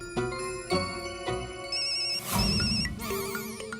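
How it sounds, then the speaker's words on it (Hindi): A telephone ringtone repeating unanswered, electronic warbling rings with short gaps, fairly close and clear with no voices over it. "फोन क्यों नहीं उठा रहे?"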